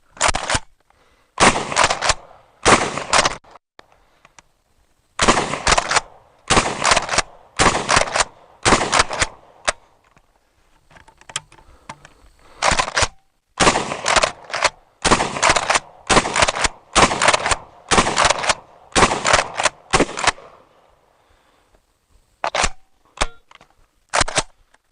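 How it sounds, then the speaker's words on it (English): Smith & Wesson M&P12 pump shotgun firing buckshot at a range, loud sharp blasts in quick clusters of two to four with short pauses between, about fourteen rounds in all. "Yeah, buckshot holds a little bit more punch in there."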